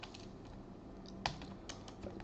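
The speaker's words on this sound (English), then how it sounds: "I'm going to press in the keyboard Windows button and R, okay, and type here" Quiet, close-up typing on a computer keyboard: a light, irregular patter of keystrokes with one sharper key press midway and no talking.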